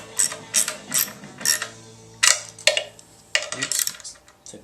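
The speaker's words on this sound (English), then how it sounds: "what you got to use is a 1/4 inch drive with the 7/16 short socket to get to the center bolt here" Quarter-inch drive ratchet with a 7/16 short socket turning the center bolt on an engine intake manifold, close rapid clicking strokes in quick repeated bursts with a few metallic clinks, no talking.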